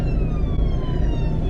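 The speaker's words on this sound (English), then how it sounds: "oh, there's an ambulance" An ambulance siren sounds on a street outside a home, a steady wailing tone over loud low traffic rumble. It stays fairly distant without coming close.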